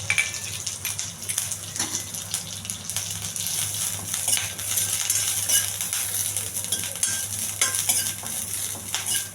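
Curry leaves fry in a little hot oil for a tempering, giving a continuous close sizzle with crackles and light stirring clinks over a steady low hum, with no one speaking.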